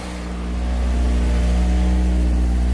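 Toyota AE86 engine idling through a Martelius header on a thrown-together temporary exhaust, a steady low droning rumble that swells slightly and holds, close and loud with no talk.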